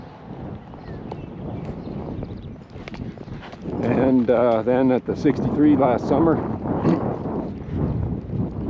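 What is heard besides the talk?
horse hooves clip-clopping while riding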